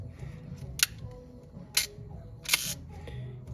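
A Soviet Cmeha Smena 8M 35mm film camera fires its shutter three times in bulb mode, each a sharp, close mechanical click spaced about a second apart over a quiet room background.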